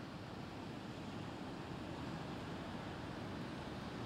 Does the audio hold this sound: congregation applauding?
no